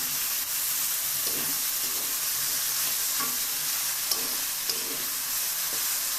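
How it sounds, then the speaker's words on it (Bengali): Small mola fish and eggplant fry in plenty of hot oil, giving a loud, continuous close-up sizzle with a few faint stirring clinks and no voices. "উঠিয়ে দিয়ে আর একটু ভেজে নেব"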